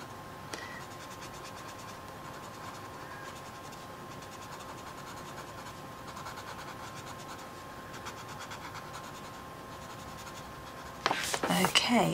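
Colored pencil scratching steadily across paper during adult colouring of a plant house picture, a continuous soft dry rasp, close and fairly quiet, with a louder burst of handling near the end.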